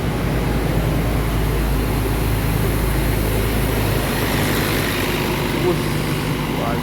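A premium double-decker coach bus passes on the road, a loud continuous engine roar and rumble with heavy traffic noise filling the whole stretch.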